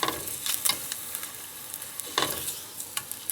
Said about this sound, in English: I just want to put the Spam on top of it and then flip it over